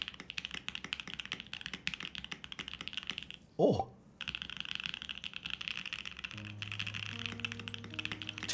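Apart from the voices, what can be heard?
typing on Think 6.5 mechanical keyboard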